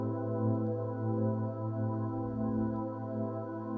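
A sustained synth pad from Omnisphere, played in FL Studio for a deep tech house track, holds steady layered chord tones with a gentle swell, alone and without talk.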